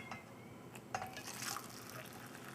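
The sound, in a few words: pouring boiling water to mix hot chocolate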